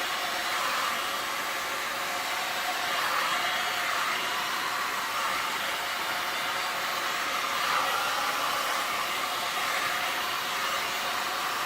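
A heat gun blows steadily over freshly poured resin on a round piece during a center-swipe pour, producing a continuous, fairly loud airy whoosh with slight swells in intensity and no talking.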